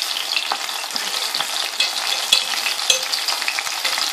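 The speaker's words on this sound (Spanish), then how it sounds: "lo vamos friendo poquito a poco" Green asparagus coated in tempura batter frying in hot oil, a loud, close, continuous crackling sizzle with scattered sharper pops and no talking.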